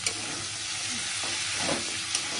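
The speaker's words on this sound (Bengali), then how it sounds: "এবার এটা ভালো করে কষিয়ে নেব।" Vegetables with turmeric and chilli powder stir-fried in a pan for a Bengali ridge gourd, potato and prawn curry, giving a steady close sizzle broken by a few soft stirring scrapes, with no talking.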